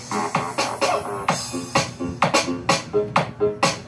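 Tinny music through a small car speaker with the bass removed, only mids and highs: a steady beat of sharp percussive hits and thin midrange tones, fairly loud and continuous.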